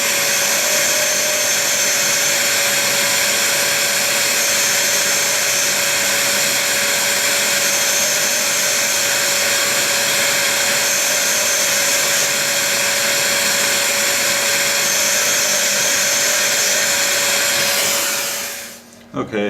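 A toolpost grinder relieving the back of its grinding wheel gives a steady, loud motor whine with a constant high tone and hiss. It runs unbroken for nearly twenty seconds, then cuts off abruptly.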